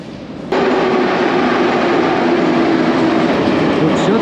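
An older Tashkent metro subway train in Uzbekistan, heard from inside the car, rolls with a loud, steady rumble and clatter that kicks in abruptly after a brief quieter moment.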